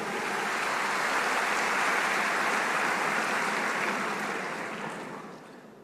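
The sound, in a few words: audience applause at IPDN campus event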